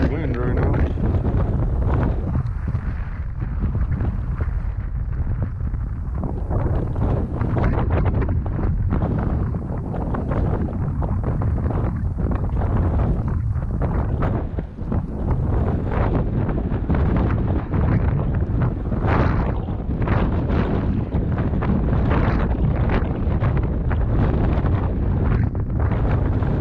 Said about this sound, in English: probably all getting blown into this cove by this crazy wind right now